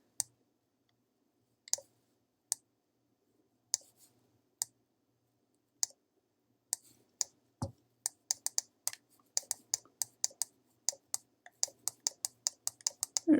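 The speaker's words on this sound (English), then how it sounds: "like no sound except my mouse clicking" Computer mouse clicks, sparse and irregular at first, then quickening into a rapid run of sharp, close clicks with no voices.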